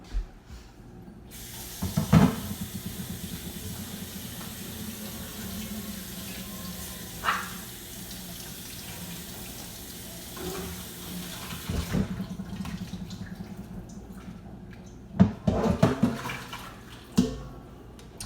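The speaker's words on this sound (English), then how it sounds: "You want to rinse your macaroni noodles in cold water so that way they don't keep cooking" Cold tap water runs steadily over macaroni noodles in a strainer at a kitchen sink, a continuous splashing flow with a few louder clatters and bursts as the pasta is rinsed.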